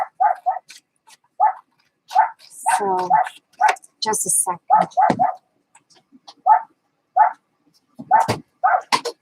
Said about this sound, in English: my pup is going bananas.